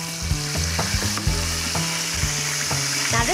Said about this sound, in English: Now this is sputtering with that wonderful fat that's accumulated on the bottom